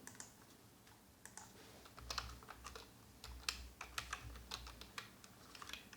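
Someone types steadily on a computer keyboard while writing JavaScript code, the quiet key clicks coming in quick irregular runs, fairly faint and close, with no voice over them.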